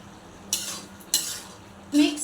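Capsicum curry with kasuri methi and coriander being mixed in a pan, heard as three short scraping stirs of a spoon against the pan, the last one slightly louder, with no talking.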